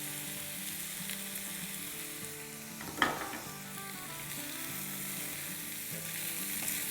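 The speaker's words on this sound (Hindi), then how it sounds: "2 मिनट में आप इसको फ्राई कर लें।" Chicken sizzles and fries steadily in a pan for Turkish doner, with one sharp clatter of a utensil partway through and no talk.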